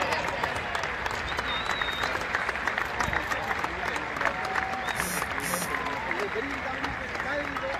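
Strong audience applause at a posthumous tribute ceremony held by a football club for a sports commentator, dense sustained clapping with crowd murmur and a few voices mixed in.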